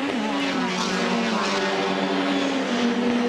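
Race car engine on a circuit at a Songkhla street race, a loud, steady, buzzing drone heard from inside the car with a slight pitch shift, and no clear separate rev blip.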